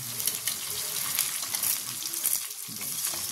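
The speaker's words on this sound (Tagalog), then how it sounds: "Nalaga na guys yung baboy pero ipapa-brown pa niya ng konti bago ilagay ang bawang" Pork browns in a frying pan, giving a steady, moderately loud sizzle with soft stirring and occasional spatters, no voices present.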